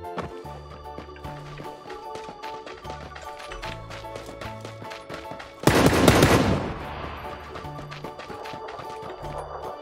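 Rapid bursts of gunfire in PUBG zombie mode, with repeated sharp shots over a busy game backdrop and one loud, dense volley partway through.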